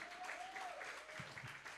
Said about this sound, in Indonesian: Berikan tepuk tangan bagi Tuhan.